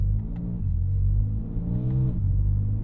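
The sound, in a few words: car exhaust drone while driving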